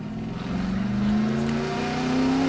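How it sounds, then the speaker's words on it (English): A Fiat 500 engine roaring under hard acceleration, a steady close drone climbing slowly in pitch as the revs build, strained and continuous with no talk. "The engine of my Fiat 500 roared and screamed for mercy"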